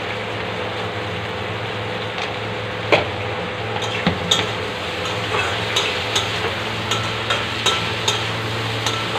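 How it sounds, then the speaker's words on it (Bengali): Fried pointed gourd and potato are sautéed with spices in a pan, giving a steady low sizzle with a series of clear spatula scrapes and taps against the pan; no one speaks. "ভেজে রাখা পটল আলু একসঙ্গে দিয়ে মশলার সঙ্গে আরও কিছু সময় কষিয়ে নেব।"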